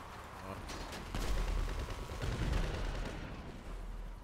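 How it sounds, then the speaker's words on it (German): Heavy, booming gunfire in the video game GTA V with sharp cracks and low thuds, a few loud blasts over a rumbling background, with faint voices mixed in. "Ein gut gezielter Schuss."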